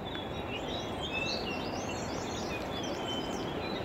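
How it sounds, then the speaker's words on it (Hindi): Many birds chirp and twitter steadily in the distance in a forest beside a house in the hills, over a soft, constant rustle of outdoor ambience, with no voices. "मतलब चिड़ियाँ इतनी प्यारी चहचहा रही हैं कि क्या बोलें।"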